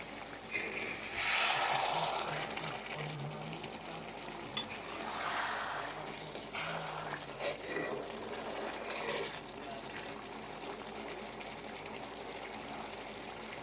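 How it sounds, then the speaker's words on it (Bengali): Water poured into a pan of simmering katla fish curry, giving a burst of gushing, sizzling splash followed by steady bubbling and frying hiss, fairly close, with no talking. "দেখো একটুখানি জল দিয়ে দিলাম"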